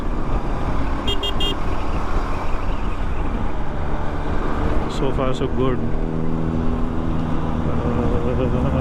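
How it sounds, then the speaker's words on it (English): Heavy road traffic on a winding ghat road near Igatpuri, heard from a KTM motorcycle: a constant broad roar of engines and wind with horn toots near the start and middle, while a rider talks briefly. "I hate this heavy traffic."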